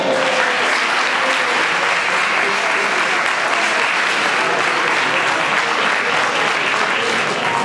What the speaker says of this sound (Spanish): vamos a darle ese fuerte aplauso